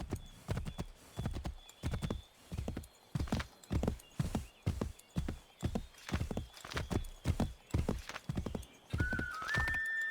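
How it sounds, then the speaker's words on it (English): A horse's hooves clip-clop in a steady walking rhythm on a hard surface, close and clear, with a brief high whistle-like sound near the end. "stupid ass horse."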